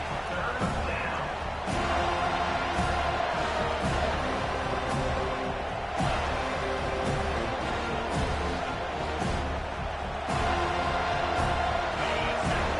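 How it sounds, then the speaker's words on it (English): A football stadium crowd roars on third down in a game against FSU, a dense, loud and sustained cheer with a few sharp claps and bangs standing out. "this crowd is tearing the lid off this place"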